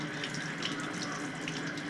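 Water runs steadily from a tap or sprayer while a dog is bathed, giving a continuous close splashing rush with no pauses.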